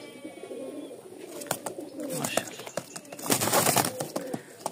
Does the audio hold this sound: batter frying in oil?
no